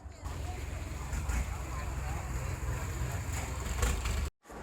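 Boat engines drone steadily on a crowded Bangkok river packed with diesel boats, a low continuous rumble with wind and water noise, briefly cut off near the end.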